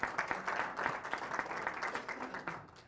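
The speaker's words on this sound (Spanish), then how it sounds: "aplauso para Mariana también." Brief burst of scattered hand clapping from a small audience at a medical meeting, moderately close and fading toward the end.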